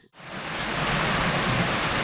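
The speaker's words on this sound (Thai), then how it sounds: "โอ้ยฝนตก" Rain pours down steadily on a surface during a storm. A short quiet moment comes first, then a dense, loud hiss builds and holds, with no talking.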